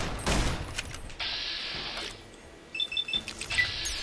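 Gunfire from a weapon in the video game Fallout: New Vegas, fairly faint. A short burst comes first, then several scattered quick shots and electronic effect tones, with no talking.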